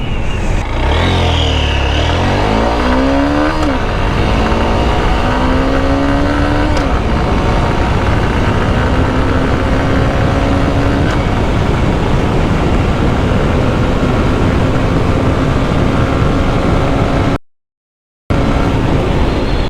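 A Honda XBlade fuel-injected ABS motorcycle accelerates from 0 to 100 km/h, its engine note rising and falling through several gear changes over strong wind rush, loud and steady for about twenty seconds.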